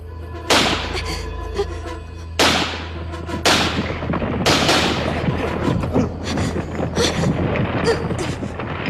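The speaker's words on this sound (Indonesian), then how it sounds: "Siapa suruh kamu menembak?" Gunshots ring out in an Indonesian TV film scene, with four sharp, loud cracks spaced about a second apart and reverberating tails that blend into rumbling background noise.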